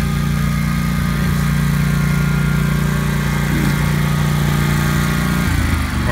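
A 36-inch stand-on lawn mower's engine runs loud and close with a steady droning hum, holding constant before shifting slightly near the end.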